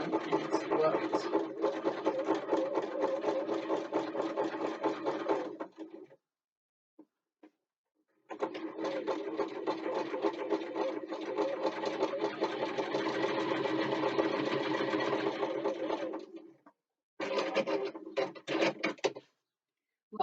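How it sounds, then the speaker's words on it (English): A regular home sewing machine stitching a bookbag backpack, running in long steady bursts of fast mechanical chatter, pausing briefly, then resuming with shorter runs, close and clear. "I call it a regular home sewing machine"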